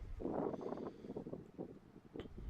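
Steady outdoor wind rushing and buffeting the microphone at the Kilcoole Breaches on a coast with geese, a low continuous roar with gusty surges throughout.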